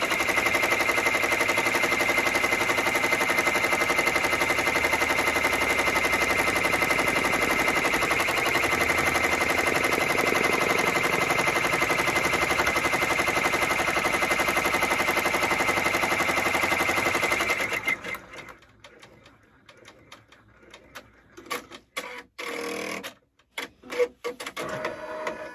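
An embroidery machine runs a tack down stitch on a hooded towel, a fast steady mechanical rattle for most of the stretch that stops, leaving scattered clicks and handling noises.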